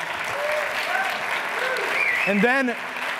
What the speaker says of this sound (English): big round of applause for Kevin and his team